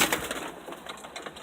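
Homing pigeons coo in soft, low, murmuring bursts close by, with a rustling background and no talk.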